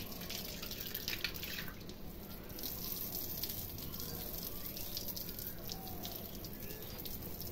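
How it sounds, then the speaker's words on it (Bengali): Water pours steadily from a pump motor outdoors, a continuous splashing rush with no pauses. "মোটরে জল ছেড়েছিলাম, মোটরে ওদিকে জল পড়ে যাচ্ছে"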